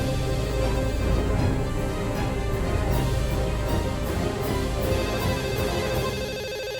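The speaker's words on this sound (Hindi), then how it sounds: "ये फोन कहाँ बज रहा है?" An office telephone rings steadily with a repeating electronic tone, heard fairly close and alone with no voices.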